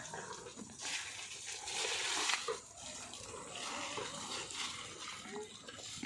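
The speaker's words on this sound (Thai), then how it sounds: "น้ำไหลช้านะคะ" Water flows in a soft, continuous rush at an elephant gathering, the wash rising and falling slightly while faint voices and other activity sound in the background.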